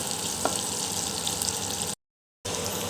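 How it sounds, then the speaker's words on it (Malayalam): Masala frying in a pan for a drumstick curry and being stirred, a steady close sizzle that cuts out briefly near the end and then resumes. "മിക്സ് ആകുന്നത് വരെ, ഒരു കോഫി കളർ ആകുന്നത് വരെ നമുക്കൊന്ന് ഇളക്കി കൊടുക്കാം"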